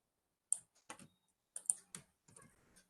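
Quiet bursts of clicking keystrokes on a computer keyboard, typed in a few short clusters separated by silent pauses, close and soft.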